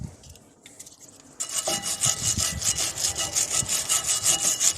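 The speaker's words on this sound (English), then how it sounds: "get rid of the bigger chunks of debris with a wire brush" A wire brush scrubs debris off rear brake parts on a Mini Clubman, starting with a few light scratches before settling into fast, rhythmic back-and-forth strokes, loud and close.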